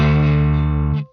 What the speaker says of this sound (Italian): Questo è il Deluxe Reverb.